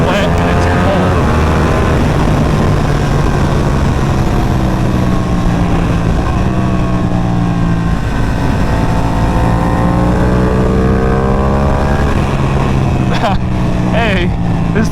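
Special Edition Ducati Panigale V2 motorcycle ridden on a wet, cold mountain road, a loud continuous engine note rising and falling through gears with heavy wind rush and someone talking over it.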